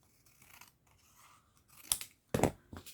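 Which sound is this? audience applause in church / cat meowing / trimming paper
trimming paper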